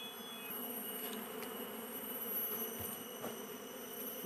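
Bees buzz steadily throughout while a colony is moved to a new hive, a dense close drone with scattered louder passes of individual insects near the listener.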